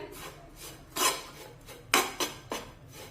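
A spoon scrapes and stirs peanut masala with finely chopped coriander in a pan, making a handful of short, quiet metallic scrapes spaced unevenly over a low background hum. No one speaks.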